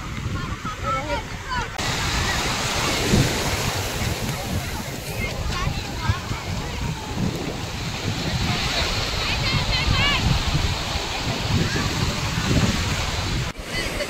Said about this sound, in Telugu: ఇంత పెద్ద అలలు వస్తున్నాయి ఇప్పుడైతే.